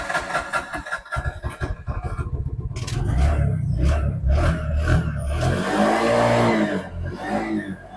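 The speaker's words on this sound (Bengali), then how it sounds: "সর্বপ্রথম সিএনজির সাউন্ডটা শোনাবো যে এই গাড়িটার সাউন্ড কেমন।" A Bajaj Uttara CNG auto-rickshaw engine starts up close by, then runs with a rhythmic chugging that swells into a rev.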